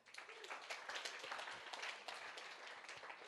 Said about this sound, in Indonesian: Tepuk tangan untuk Tuhan kita.